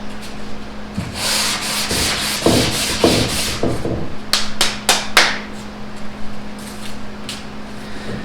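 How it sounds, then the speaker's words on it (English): Wood on a chest of drawers is sanded by hand with 120 grit sandpaper, giving close, rough scratchy rubbing in bursts, then a run of short quick strokes over a steady background hum. "I'm going to sand the whole thing"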